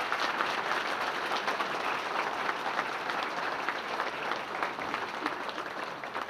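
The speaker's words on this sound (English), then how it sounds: "let's give Tim Alcorn a big round of applause, please." Steady, sustained applause from a banquet audience at a sports hall of fame enshrinement, honoring an inductee, dense clapping holding at an even level throughout with no talk over it.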